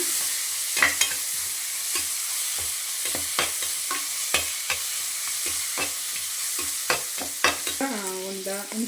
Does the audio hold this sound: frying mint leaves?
yes